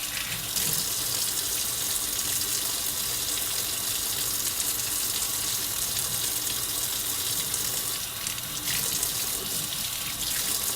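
Running kitchen faucet as a hand is rinsed under it, a steady close stream of water splashing into a sink, continuous and unbroken.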